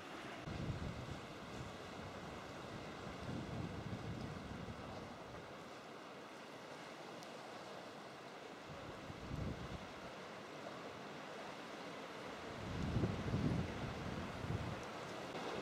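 Sea waves surge and break below the cliffs at North Stack on Anglesey, a steady wash under buffeting wind noise with occasional heavier swells rolling in.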